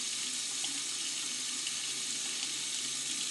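Hot water runs steadily from a household tap fed by a Navien tankless water heater, a constant close hiss of flowing water with no talk.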